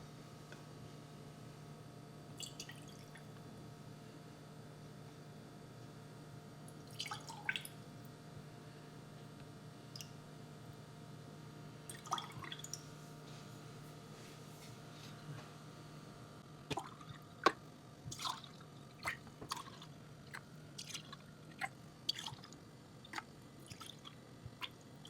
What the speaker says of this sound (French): Il n'y a plus qu'à verser dans les pots.